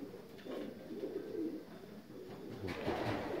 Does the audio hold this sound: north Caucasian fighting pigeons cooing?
yes